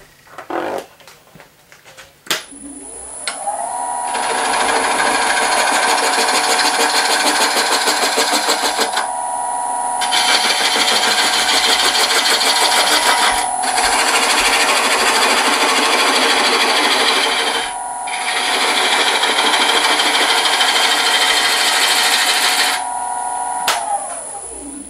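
A wood lathe spins a hollow form while it is rough-shaped, giving a loud, sustained whine with a steady high tone. The sound breaks off briefly twice before ending.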